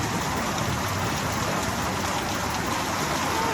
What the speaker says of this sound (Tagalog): bigla pang lumakas unti-unti yung ulan hanggang sa bumuhos